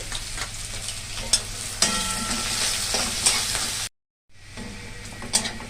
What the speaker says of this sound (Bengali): তেলটা গরম হোক। পেঁয়াজগুলো লাল করে ভাজবো।